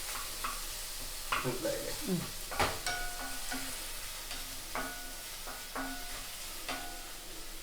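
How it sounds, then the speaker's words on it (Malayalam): Chicken cooking in a home kitchen pan, with garlic paste frying in oil, under irregular scraping and tapping stirs over a steady sizzle, with a brief spoken question partway through. "എന്നിട്ട് ഇടുക. തട്ടിക്കൊണ്ടിരിക്കുക."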